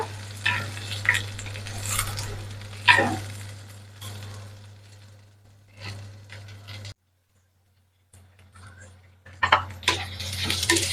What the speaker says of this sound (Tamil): நாங்கள் நல்லா கிளறி விட்டு வதங்க விட்டு கொள்வோம் வெங்காயத்தை